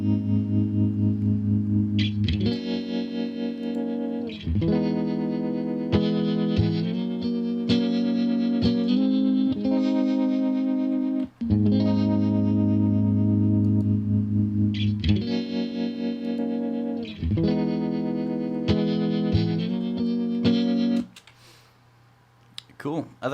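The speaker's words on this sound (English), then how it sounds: "I'll take the spread up, so this will actually introduce some stereo spread into the signal." Electric guitar chords and riffs run through a shimmering Helix Native modulation effect with wide stereo spread, steady and loud, with a brief pause near the end.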